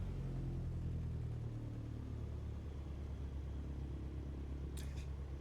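A Cessna C152 piston engine idles at 1,000 RPM in a flight simulator, a steady low rumbling drone that holds even throughout, with a brief faint click near the end.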